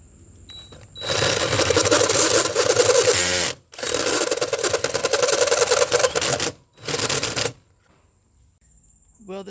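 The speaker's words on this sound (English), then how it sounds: "carbide tipped hole saw for metal" A carbide-tipped hole saw cuts through metal on an RV van wall for a shore power port, giving loud, harsh grinding bursts in three long runs separated by short pauses, then quiet.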